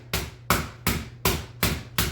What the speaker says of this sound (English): the reason we're pounding it like this is